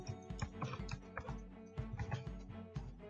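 Soft keystrokes on a computer keyboard tap out a short, quiet burst of typing, with light clicks in an irregular rhythm and no voice over them.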